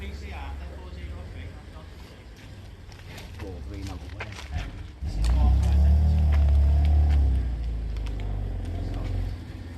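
A flashy car passes close by on a street during a police scene, its engine swelling into a loud low rumble and then fading, while people talk over it.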